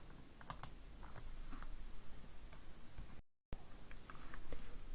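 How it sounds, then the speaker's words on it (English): Quiet keyboard typing while writing Visual Basic code: a run of light, irregular key clicks at close range, with a brief dropout partway through and no speech. "We do this by typing sub and the name of our routine."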